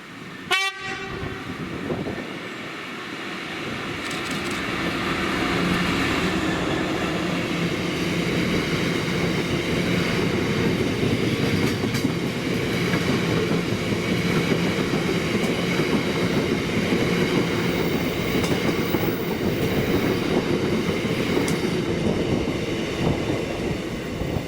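A freight train hauled by locomotive 66793 carrying aviation fuel to Prestwick BP Oil in Scotland, a horn blast at the start, then a long loud, steady rumble of wagons rolling past close by.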